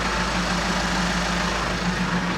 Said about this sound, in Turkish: Motoru bak yine yaptı aynısını.